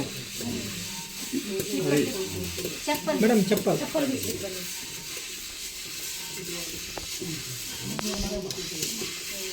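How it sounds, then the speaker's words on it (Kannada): Paddy rustles and sizzles as it is stirred in a hot clay pot for making flattened rice, a scraping, crackling hiss continuing under nearby talk. "ಅಕ್ಕಿ ಎಲ್ಲ ಭತ್ತವನ್ನು ಹಾಕಿ ಅದನ್ನು ಹುರ್ಕೊಳ್ತಾ ಇದ್ದಾರೆ ಸ್ವಲ್ಪ ಬಿಸಿ ಆಗೋ ತನಕ"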